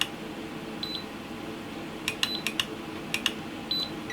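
An Aneng AN8008 multimeter gives short, high beeps during accuracy testing with calibrators, a few brief chirps in an irregular cluster over a steady background hum, faint and close.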